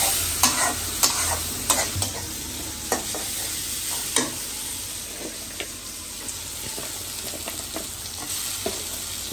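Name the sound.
fish being sautéed in a pan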